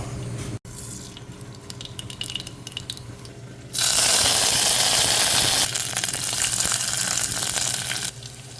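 Water boiling in a pot pours and churns loudly with a broad hiss, starting after a quieter stretch of faint clatter, then steadying and easing slightly toward the end.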